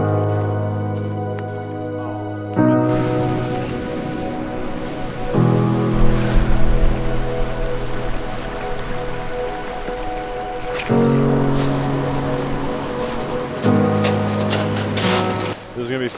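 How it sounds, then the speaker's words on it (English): Ocean surf washes in on Ruby Beach on the Washington coast as a loud, steady roar that swells in waves, with a voice speaking over it. "Today we're actually in Washington at Ruby Beach, which is like kind of on the coastline."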